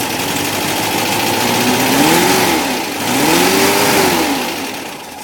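A 1977 VW Kombi engine runs close by, revving up twice in smooth rising and falling swells over a steady mechanical drone, with no talking.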